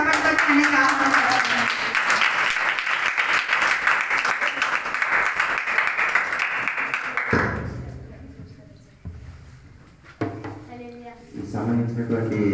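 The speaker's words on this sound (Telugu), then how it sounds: "మీరు అందరూ చప్పట్లు కొట్టి అన్నీ కాపాడుతున్నారు." Audience clapping at a December community meeting, a dense steady burst of applause for about seven seconds before it breaks off and voices take over.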